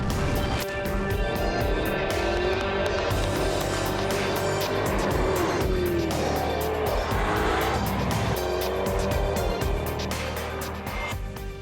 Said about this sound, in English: This is the Jaguar XKR. In the grand tradition of high-powered performance Jaguars, it's a supercharged 5-litre V8 that packs quite a punch.